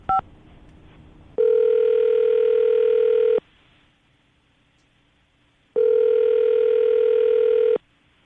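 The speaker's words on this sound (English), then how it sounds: "I'm about to dial the phone number right now" A telephone line sounds a short dial beep, then two long steady ringback tones separated by a quiet pause, clear and loud over a faint background hum.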